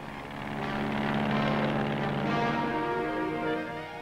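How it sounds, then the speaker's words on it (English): Radio-guided pilotless planes rehearsing for a 1946 atomic bomb test over a Pacific atoll, a steady loud droning propeller engine roar that swells and holds throughout, like aircraft passing close overhead. "pilotless planes rehearse their part in the operation"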